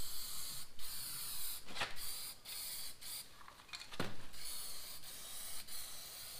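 Aerosol primer sprayed in light coats onto a homemade counterweight for a Kubota B2601 tractor, a steady close hiss broken by several short, sharper bursts as the nozzle is pressed and released.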